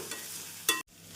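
Thinly sliced cabbage stir-fried in oil with no added water, for a cabbage and egg poriyal: a low steady sizzle with one brief, louder scrape of stirring near the end, then a sudden cut.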